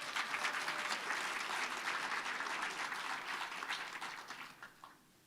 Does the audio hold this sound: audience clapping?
yes